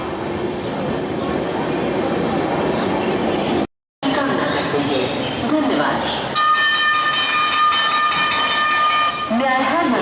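Gaya–Delhi Amrit Bharat Express arriving at platform 4 of Tundla Junction, a steady loud rumble of rolling rail cars with a brief dropout midway, then sustained high squealing tones near the end as the train slows.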